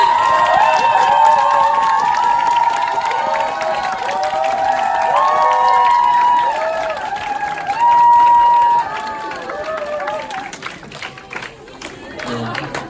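Lecture-hall audience at a group meeting claps and cheers to welcome a businessman onto the stage, a long swell of applause mixed with raised voices and shouts that thins out toward the end.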